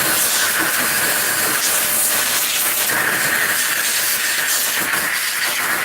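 Carburetor cleaner sprays in a loud, continuous hiss onto a snowblower carburetor, one steady blast lasting several seconds without a break.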